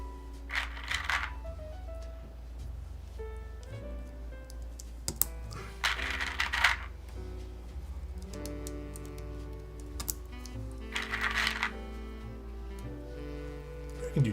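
Typing on a Unikorn mechanical keyboard in Berlin blue, steady clacking keystrokes in bursts close to the mic, with faint background sound between the flurries.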